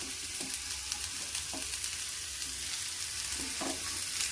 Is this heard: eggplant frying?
yes